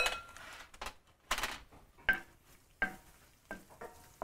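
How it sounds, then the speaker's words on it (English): Garlic and mashed sardines sauté in a pan, a soft sizzle broken by repeated clinks and scrapes of a utensil against the metal, close and fairly quiet. "Saute this up."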